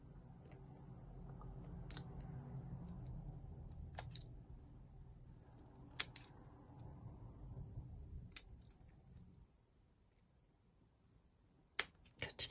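Scissors cut scrap paper to make envelopes, a faint, close series of crisp snips and paper rustles with quiet pauses between cuts and a sharper snip near the end; no one speaks.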